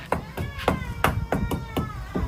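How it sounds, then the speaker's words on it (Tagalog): A hammer strikes a nail in steady repeated blows, eight or so sharp knocks spaced about a quarter second apart, close and clear with faint room noise. "Tapos may pako dito. Pero mo yan. Martilyo."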